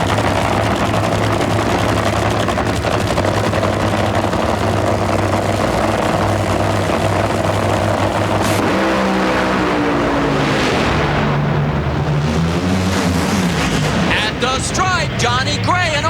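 NHRA funny car drag racing at the 2003 U.S. Nationals in Indianapolis: a loud, sustained engine roar fills the whole stretch, with a rising pitch sweep midway and crowd or announcer sound near the end.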